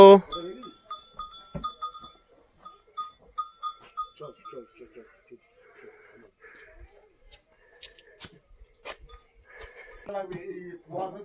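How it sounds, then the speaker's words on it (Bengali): Large goats at a mountain homestay bleat in short intermittent calls, mixed with people talking nearby. "এই দেখো কি বড় বড় ছাগল এখানে।"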